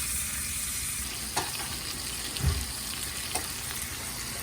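Sauce sizzling hard in a pan over high heat, a steady close frying hiss with a few soft stirring clicks and a low thud midway, no voices.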